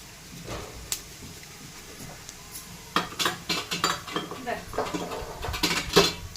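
Metal cooking pot and utensils clatter while cumin tempering is prepared for home-style Khandeshi cooking: sparse clinks at first, then a busy run of close, sharp clanks and scrapes, with no talking.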